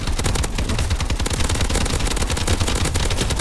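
Rapid automatic gunfire from Call of Duty Advanced Warfare rattles on without pause, dense bursts of shots filling the whole stretch loudly and close, with no talk over it.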